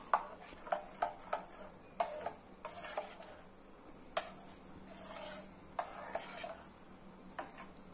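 Melted soap base mixed with blended beetroot, stirred in a container with a utensil, giving faint, irregular clinks and taps against the sides over a quiet background.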